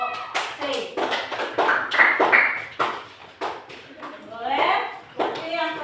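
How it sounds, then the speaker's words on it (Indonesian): Group C in an Indonesian classroom gets a round of clapping: a burst of uneven hand claps and taps, fairly close, mixed with students' voices and chatter throughout. "Berikan tepuk tangan untuk kelompok C."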